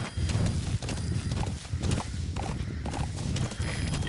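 Hooves of a horse in a stealth video game clip-clop in a steady rhythm, close and fairly loud, with a faint whinny-like tone mixed into the game's ambience.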